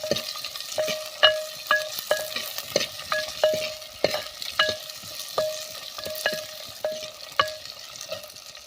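Potatoes and mixed vegetables sautéed for a bajra khichdi, a spoon scraping and tapping the pan in a steady rhythm of sharp clanks over a soft continuous sizzle, close up and with no voices.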